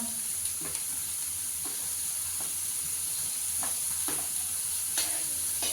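Cumin seeds frying in hot oil for a bhindi dish, a steady hissing sizzle under several brief stirring scrapes, close and even in loudness, with no speech.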